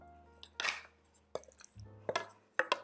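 A heavy pan clanks and scrapes in a home kitchen while a plant-based kale and potato bake sauce is made, giving a few sharp metallic knocks between quieter stretches.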